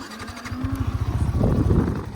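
A Yamaha R15M motorcycle with 17-inch wheels and a 140-section rear tire idles and revs nearby, its exhaust giving a steady, pulsing note that builds slightly in loudness over a couple of seconds.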